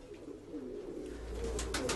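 Pigeon at a breeder's loft cooing close by in soft repeated calls over a steady low background, with a few brighter chirps toward the end.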